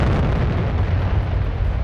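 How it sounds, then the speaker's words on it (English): A dynamite explosion sound effect for a Magnificent Seven co-op tabletop wargame: a loud, deep, rumbling blast that stays heavy and continuous throughout, with no voices over it. "Blow the dynamite!"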